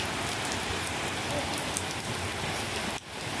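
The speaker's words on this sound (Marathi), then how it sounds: "बघा पाऊस लागतो तो." Heavy rain pours down steadily in a village near a harbour, a dense, loud, continuous hiss of drops on surfaces that briefly dips near the end.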